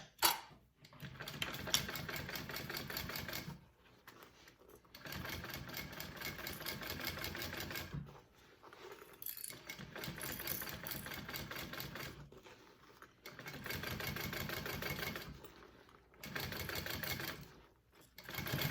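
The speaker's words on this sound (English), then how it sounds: "we're going to sew that together" A sewing machine runs in several bursts of rapid, even stitching while basting a bag seam, each run a few seconds long with short pauses between, close and clear with no talking.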